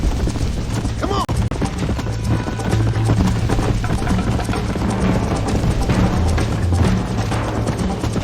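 Horse galloping in the Red Dead Redemption video game, a continuous rapid thudding of hooves in a close, loud rhythm under the rumble of the ride.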